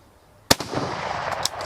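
A single sharp, loud military surplus rifle shot fired outdoors at a target about 35 to 40 yards away, followed by a long echoing rumble and a few faint clicks.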